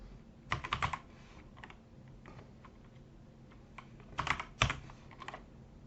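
Rapid clicking of keys on a computer keyboard, typed in two short bursts near the start and end with quieter scattered taps between, close and fairly soft, with no talking.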